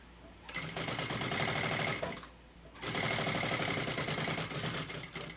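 Sewing machine stitching the top edge of a handmade binder cover, two loud steady runs of rapid mechanical whirring separated by a brief pause, close and without talk.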